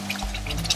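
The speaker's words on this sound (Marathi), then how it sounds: "गरम पाणीच टाकायचं" Hot water poured onto roasted semolina in a pan over a low gas flame, a short steady pour with a low rush and faint sizzle, close and alone.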